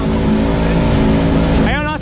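A 40 HP outboard motor on a boat runs steadily with a loud, close droning roar and a strong harmonic hum that shifts pitch near the end, as people talk over it.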